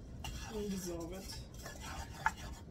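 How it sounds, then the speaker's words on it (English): A tablespoon of flour is stirred into melted butter in a stovetop pan for mac and cheese, with soft scraping and utensil clinks and one sharp tap near the end, faint and close. "We're going to add a tablespoon of flour into our melted butter."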